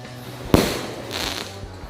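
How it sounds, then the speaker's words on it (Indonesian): A large rocket firecracker goes off outdoors with one sharp, loud bang, followed by a brief hiss and crackle as it fades. "Mercon roket terbang."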